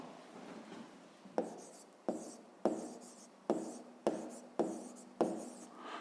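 Pen strokes on paper while numbers are written in brackets for a fifth-grade maths exercise: close, quiet scratching in a steady series of about seven sharp repeated marks, each fading quickly.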